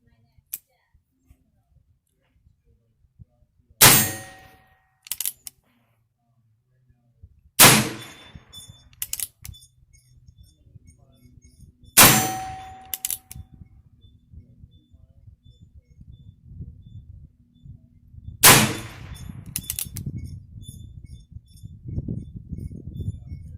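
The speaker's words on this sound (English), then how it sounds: "I'm gonna first shoot at the gopher and then the gong." Four sharp revolver shots from a Heritage Rough Rider with a 16-inch barrel, spaced several seconds apart outdoors, with faint metallic rings from steel gopher and gong targets after some shots and low background noise between.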